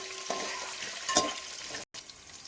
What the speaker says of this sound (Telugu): కరివేపాకు వేసుకున్న తర్వాత పచ్చిమిరపకాయలు ఇలా వేసుకుని కలుపుకోవాలి కొంచెం ఏగే వరకు